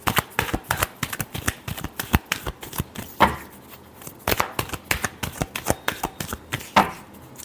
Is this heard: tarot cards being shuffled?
yes